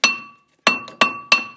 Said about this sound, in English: some light loving with a hammer